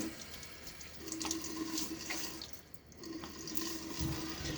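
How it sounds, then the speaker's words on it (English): Running tap water in a bathroom sink in winter, cold mixed with a little hot to lukewarm, splashed onto the face before a shave; a steady close wash of flowing water with brief splashy bursts. "Water on my face."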